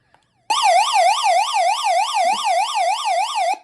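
A weather radio's SOS alarm siren wails loudly and steadily, warbling rapidly up and down for about three seconds before cutting off abruptly.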